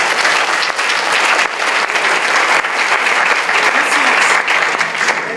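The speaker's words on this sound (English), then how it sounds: "Give a hand clap if you believe it." A crowded audience at an EdCamp education conference breaks into dense, steady hand clapping that stays loud and unbroken throughout.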